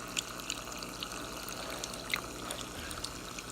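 Quiet wine pouring steadily from a bottle in a thin stream, with faint splashing and small clinks, soft and close.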